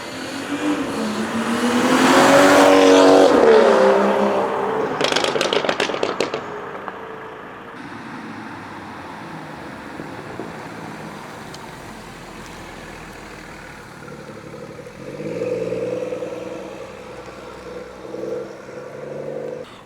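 A tuned BMW 440i rear-wheel drive car revs hard up close, its engine rising to a loud roar with sharp crackles and pops, then settling into a quieter idle before another brief rev.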